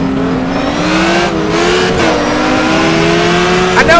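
Dodge Viper race cars roaring in GTR2, a loud close engine drone rising and falling through gear changes with brief dips, continuous for the whole stretch without any talk.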